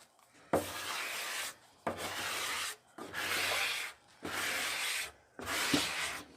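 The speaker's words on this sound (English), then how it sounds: "once she's laid down, you can go over it with the squeegee" A squeegee scrapes across a vinyl graphic laid on a cornhole board in five even strokes, each a rough, hissing rub of about a second, separated by short pauses, close and clear.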